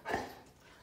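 An eight-and-a-half-year-old retired guide dog gives a single short bark up close as a good-morning greeting, followed by quiet.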